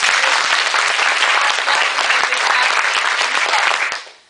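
An audience at SRCC claps together in a loud, dense burst of applause that holds evenly for about four seconds, then cuts off sharply as the clapping stops.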